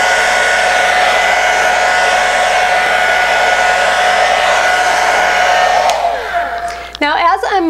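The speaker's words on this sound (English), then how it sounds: "we're just gonna start blow-drying him on low." A hair dryer on its low setting blows on a dog during grooming, a steady whirring hum at close range that cuts off near the end, followed by a brief spoken word.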